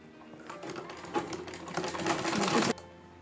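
A sewing machine stitches a salwar in one short burst of rapid, close mechanical chatter lasting about two seconds before stopping abruptly.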